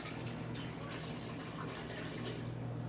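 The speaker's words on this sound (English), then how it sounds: "I'm going to open up some coconut water, if you can see that. I'm going to pour it in" Coconut water pours into a smoothie blender as a steady, close liquid splash that runs evenly for about three seconds with no talk.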